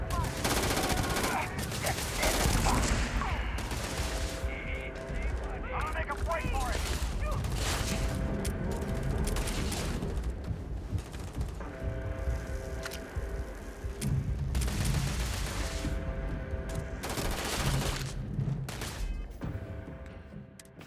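Gunfire from a weapon in the video game Starfield, bursts of shots ringing out repeatedly over a dense, busy game soundscape with music and effects throughout.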